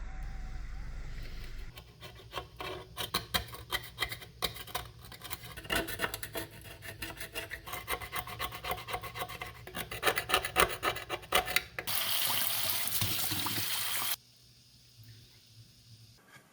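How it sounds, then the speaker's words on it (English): Rough, rasping strokes scrape loose rust off a corroded metal battery box inside a 1985 Casio AS-20 keyboard amplifier. The scraping comes close and repeated in uneven bursts, then turns into a steady, harsher scrape before it stops. "I'll try scraping off as much of the loose rust as possible, especially around the positive terminals"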